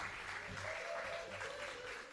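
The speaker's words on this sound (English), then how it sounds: "Give him a little clap now, man." An audience claps at the official opening of a Jamaican recycling plant, a steady wash of applause lasting throughout at moderate distance.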